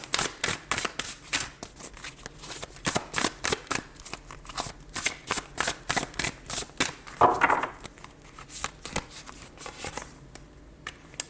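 Tarot cards are shuffled over and over in crisp, rapid riffles, close and steady for about eleven seconds, with one louder rustle partway through and no talking.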